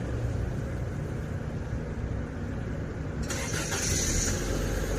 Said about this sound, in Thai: สตาร์ทเครื่องยนต์ให้เรียบร้อยนะคะฟังเสียงเครื่องยนต์